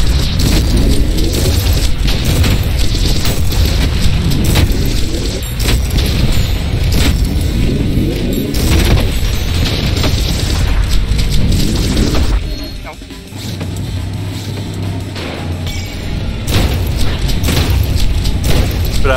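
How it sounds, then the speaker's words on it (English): Shotgun grenade blasts go off in the fast first-person shooter ULTRAKILL, set against loud, continuous game combat noise. Booms and crashes pile into one another for most of the stretch, with a brief dip partway through, and someone talks over the action. "you can literally shoot your own grenade out of the air"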